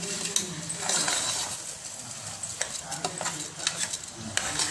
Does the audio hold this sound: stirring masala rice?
yes